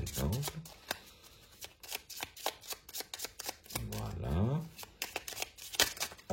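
A deck of petit Lenormand fortune-telling cards is shuffled in a series of close, crisp riffling bursts, with someone speaking French softly between them.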